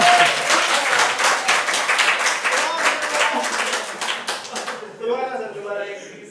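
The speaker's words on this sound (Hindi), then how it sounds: "दाद चाहूंगा तालियों के साथ।" An audience at a Hindi poetry stage event in Pilibanga claps for a poet, a loud, fast round of applause lasting about five seconds before a voice begins speaking.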